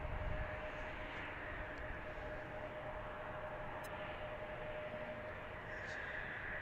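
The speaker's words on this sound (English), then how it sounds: "JetBlue taking off" A JetBlue airliner takes off from Washington's DCA, heard from Gravelly Point as a steady, loud broadband jet roar with a faint thin whine riding on top, holding even throughout.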